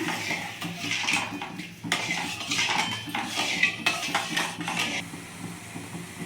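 A metal kadai (wok) is set down on a gas stove in a home kitchen, with close, repeated clanks and scraping clatter of cookware in uneven bursts and no talking.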